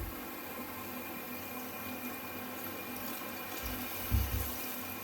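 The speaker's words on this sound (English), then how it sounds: "And now we add the water." Water poured into a pan while making chilli paneer gravy, a steady continuous splashing stream with a brief louder gush near the end.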